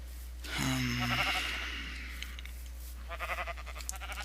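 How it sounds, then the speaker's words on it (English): Sheep bleat in the blocky survival world of TerraFirmaCraft Minecraft, one clear, wavering bleat near the start followed by fainter animal sounds later, alone without talk. "Quite a bit of sheep here."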